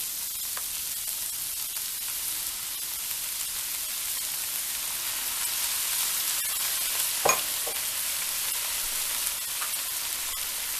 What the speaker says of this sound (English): here I've reserved some of the Kalua pork juice. So you just put it in now